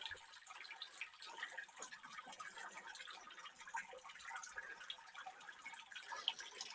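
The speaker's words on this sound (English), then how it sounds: "you can hear the water coming off." Water drains from a beer brewing unit during a Czech Pilsner brew, a faint, steady trickle with soft drips and a hollow splashing hiss, no talking.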